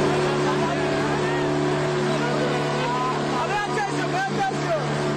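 An overcrowded migrant boat at sea near Symi, Greece, gives off a steady low motor hum, with water noise and a voice speaking over it the whole time.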